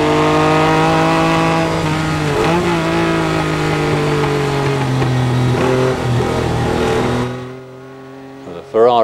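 Ferrari 246S Dino race car at the Goodwood Revival, its engine loud and close, holding a steady high note with brief pitch dips through gear changes before dropping away abruptly near the end.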